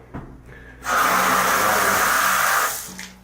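Water gushes steadily from a faucet into a tub, a loud, close hiss that starts abruptly and cuts off after about two seconds.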